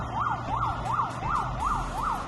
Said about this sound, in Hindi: एम्बुलेंस भी आ गई है यहाँ पे।